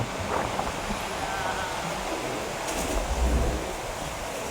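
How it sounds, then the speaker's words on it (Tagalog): Strong wind blowing outdoors along Queens Road Central in Hong Kong, a continuous heavy rush and rumble buffeting the microphone with no let-up. "Hinuhubaran ako ng hangin."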